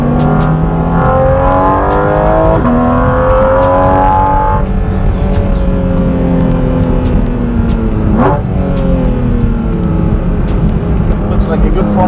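Porsche GT4 RS flat-six running on a private race track, engine note loud and steady as it climbs through the revs and shifts gears, with speech over the top.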